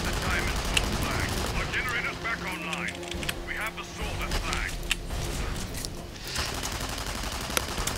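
Gunfire in the video game Tribes: Ascend, bursts of shots and impacts layered over a steady game hum while a player talks throughout.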